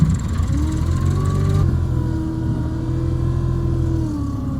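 A vehicle backs out while pulling a very full muck trailer on a farm. A steady, loud engine drone holds throughout, with a slight change in pitch as it moves and no talk.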